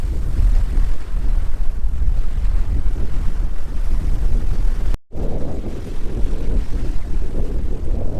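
Strong wind buffeting the microphone aboard a sailing yacht at sea off the Portuguese coast, a loud continuous roar with rushing water beneath it, broken by one brief cutout midway.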